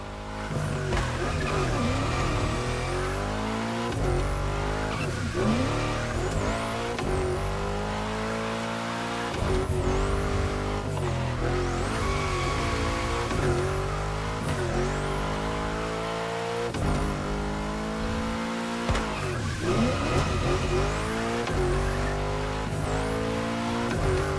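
A Nissan 370Z tuned to 850 horsepower drifting through bends in a racing video game, its engine revving loudly and repeatedly while tires squeal and skid across a continuous run with no talk.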